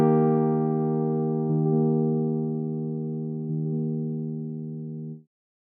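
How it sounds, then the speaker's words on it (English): Synthesizer preset note shaped by a sawtooth LFO, a sustained harmonic-rich tone that seems to retrigger twice in a delay-like pulse, holding steady for about five seconds before cutting off; no talking. "we have this sawtooth LFO happening, and if you watch, you can see how it sounds like it's almost re-triggering the note"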